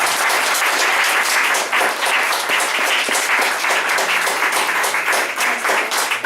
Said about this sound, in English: another round of applause for all three of our panelists